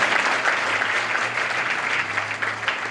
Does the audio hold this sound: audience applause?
yes